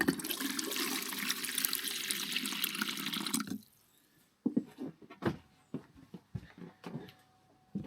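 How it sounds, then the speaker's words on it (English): A water pump runs as water rushes steadily from a tap for a few seconds, then cuts off abruptly, leaving scattered drips, clicks and light knocks in the quiet. "Have you ever had a noise on your water pump?"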